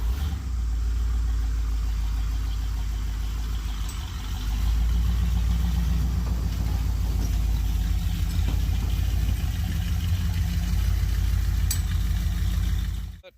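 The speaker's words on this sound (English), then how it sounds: "That truck's continuing to warm up a little bit." A classic Jeep J20 truck engine idles steadily while warming up, a low continuous rumble that stays close and even throughout, with a slight rise partway through.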